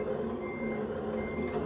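Reversing beeps from a truck backing up in the Scania Truck Simulator game, a steady warning tone running continuously over a low engine rumble, moderately loud and with no talking.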